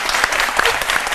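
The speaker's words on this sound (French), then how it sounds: "Il faut l'applaudir, sincèrement." A studio audience at a French daytime TV cooking show claps in a brief, dense burst of applause, loud and even throughout.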